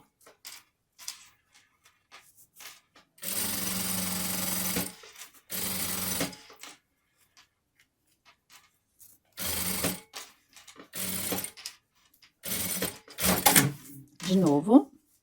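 A sewing machine stitching a satin sweatshirt runs in several short bursts of whirring stitches, separated by pauses, with someone talking in between.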